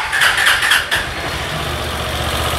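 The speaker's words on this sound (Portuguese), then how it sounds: "Ligue primeiro pra galera ver o barulho que tá o comando" Honda CG 160 motorcycle engine idling with worn camshaft noise, recorded close to the motor: a steady mid-low running drone with some rattling tick bursts in the first second, alone without voices.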